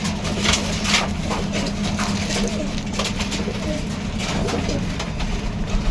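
A pair of white domestic pigeons cooing in a home loft, low repeated coos near and continuous beneath a steady ambient hum.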